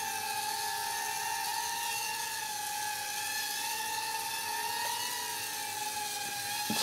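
A Blade Pico QX micro quadcopter drone hovers nearby with a steady, high-pitched whirring buzz from its tiny spinning propellers, holding an even tone throughout.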